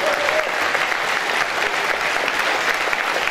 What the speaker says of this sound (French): Ok, on peut les applaudir.